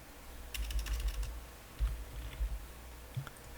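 Several quick keystrokes tap on a computer keyboard while a word is entered into an effects search field in editing software, close but soft, followed by a few scattered clicks.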